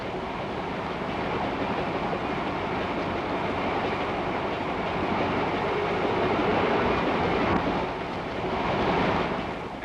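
A 1936-era passenger train with hotel-style sleeping cars, diner and lounge car rumbles steadily along the rails, a continuous loud rolling roar that swells slightly toward the end, with no voices.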